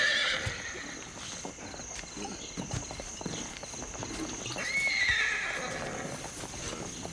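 A horse whinnies loudly in two drawn-out calls in a Western drama, with hooves shuffling and clopping nearby between them and no speech.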